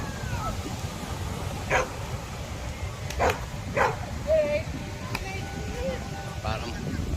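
A dog barks a few scattered times at an outdoor cove in Baler, Aurora, short yips set against steady wind or surf noise.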